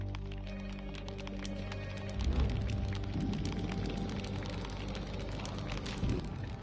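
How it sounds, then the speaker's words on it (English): Heavy rain pattering in the video game Burly Men at Sea, a dense, continuous crackling hiss over low rumbling, swelling a little around the middle. "As rain tumbles heavily over them"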